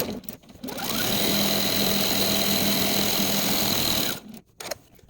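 A sewing machine runs for about three seconds in one continuous close whirring burst as it sews quilt fabric scraps. Quieter handling noises come before and after the burst.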